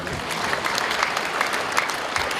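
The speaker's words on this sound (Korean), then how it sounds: "하나님께 영광의 박수 드립니다" A church congregation applauding at a denominational anniversary revival service, a dense, steady roar of clapping from a large crowd throughout.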